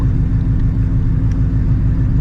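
A 900HP Shelby GT350 with a built transmission makes a loud, steady, deep engine rumble during a hard pull, holding close and unbroken throughout with no voices.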